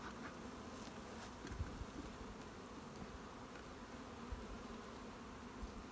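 Honeybees buzz in a dense, continuous drone around an open hive in early spring, fairly faint and steady with no voices.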